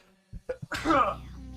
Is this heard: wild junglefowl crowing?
no